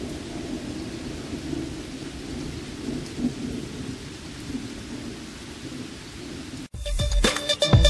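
Heavy thunder rumbles through a steady rainstorm, a continuous low roll under the patter of rain, before a sudden close, louder crackle and clatter near the end.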